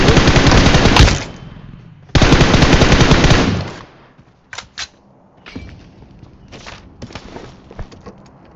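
Automatic gunfire in the mobile battle-royale game PUBG Mobile, two loud sustained bursts followed by scattered single shots and softer distant pops, with no talk.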